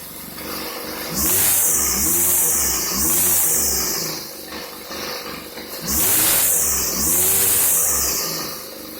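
A 1999 Weed Eater Featherlite string trimmer's small two-stroke engine runs close by after a cold start, buzzing and repeatedly revving up and dropping back in several rising bursts.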